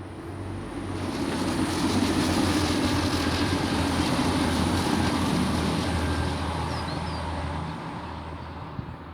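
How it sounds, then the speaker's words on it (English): A train passing on a live railway line, heard as a steady, fairly distant rumble and rolling roar that swells and holds for several seconds before easing off slightly. "Oh, I can just hear a train,"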